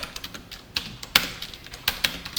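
Code being typed on a computer keyboard: quick, uneven clicks and taps, close and fairly quiet, with a few sharper keystrokes standing out and no speech.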